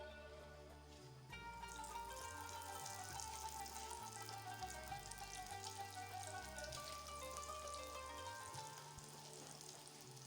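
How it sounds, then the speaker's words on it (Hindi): Bhalla fritters frying in hot oil in a home kitchen, a steady low sizzle and crackle that fades in after a second and holds evenly, with faint dripping and clinks. "ये फ्राई हो रही हैं, इनको गोल्डन ब्राउन सा कलर मैं दूंगी"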